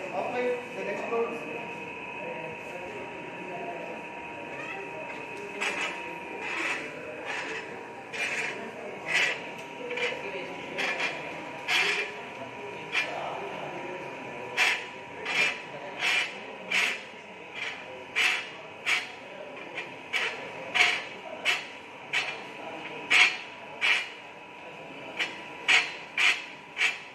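A DC shunt motor runs under a pulley brake load, giving a steady electrical whine joined by regular mechanical ticks that grow more pronounced and evenly spaced, with muffled voices faintly underneath.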